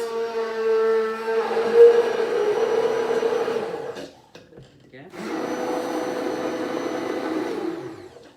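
A blender whirs loudly for several seconds, stops briefly, then whizzes again; a voice speaks over the start.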